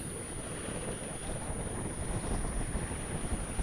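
A sailboat sailing out of a gulf under sail in Sardinia, with steady broadband wind and water rush from start to finish and no clear engine note.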